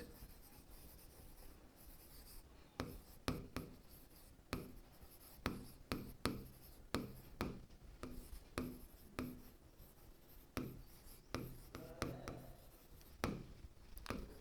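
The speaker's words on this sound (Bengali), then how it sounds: "তাহলে আগে লিখে নিই" Pen writing on paper for a math lesson, a series of quiet, close scratching strokes in short bursts with brief pauses between them, no speech.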